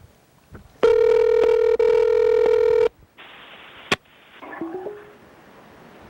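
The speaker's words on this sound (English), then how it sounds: "I'm gonna try to call Yellow Fella because it's early." A phone call is placed: a steady electronic dial tone holds for about two seconds, a sharp click follows, then a buzzing ringback tone and a few fainter tones, loud and close with no voices.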